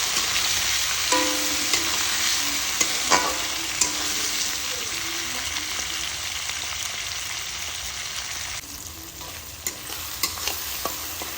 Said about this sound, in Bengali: আমি এখানে পেঁয়াজ আর টমেটোটা খুব ভালো করে একটু লাল লাল করে ভেজে নেবো